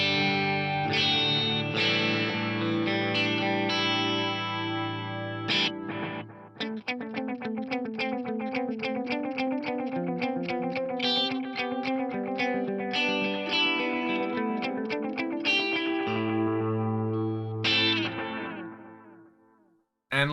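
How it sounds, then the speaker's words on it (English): A clean electric guitar riff repeated through a quarter-note and dotted-eighth dual delay, each note echoing in a layered rhythmic pattern that trails off at the end. "So now I've got a quarter note and a dotted 8th note delay."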